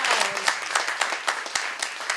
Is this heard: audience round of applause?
yes